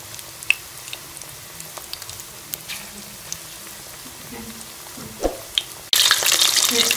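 Chicken pakoras frying in oil: near-silence with a few small clicks and taps gives way to a sudden, loud, steady sizzle as pieces drop into the hot oil near the end.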